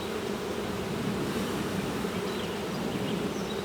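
Honeybees buzz steadily around an open hive during an inspection, a dense, continuous droning hum from many insects close by with no talking.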